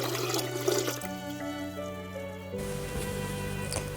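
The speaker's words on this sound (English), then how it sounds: "Pour that into a larger container that can hold another 2 liters or so of water." Water pours steadily into a larger container while indigo dye is prepared for block-printed textiles, a close, continuous splashing and gurgling that shifts in tone partway through as the vessel fills.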